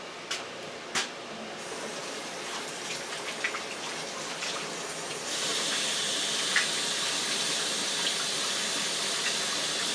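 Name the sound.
tap water running while washing hands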